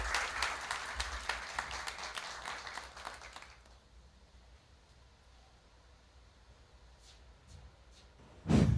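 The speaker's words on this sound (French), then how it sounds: "encore sous vos applaudissements, s'il vous plaît." Audience applause from a sizable crowd at a televised quiz show, steady clapping for about three seconds that fades out, leaving quiet room tone with a couple of faint claps and a thump.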